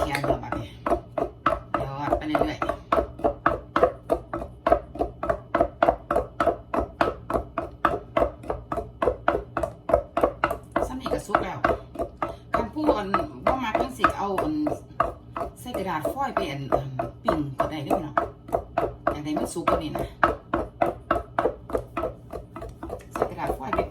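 Fish and herbs being pounded for an old-style Lao-Thai grilled fish larb, a steady run of rapid, loud rhythmic thuds that continues throughout while a person talks over it.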